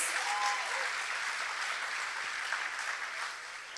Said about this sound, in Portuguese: Can we give a hand for those?